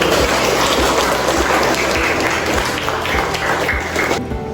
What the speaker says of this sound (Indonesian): Tepuk tangan untuk Nabi